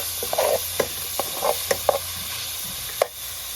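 Chopped pork frying in a pot with little oil outdoors in Jamaica, a soft steady sizzle broken by several sharp stirring scrapes and clicks, close and fairly quiet with no talk.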